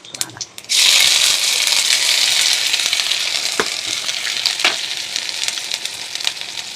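Dried red chilies, bay leaf and cumin seeds hit hot oil and sizzle loudly, with the crackle settling into a steady, close frying hiss and occasional stirring clicks.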